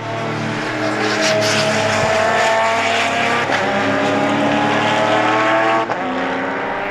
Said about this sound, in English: The How Racing TA2 right behind goes by, so does Christian Holtappels in the Ligier.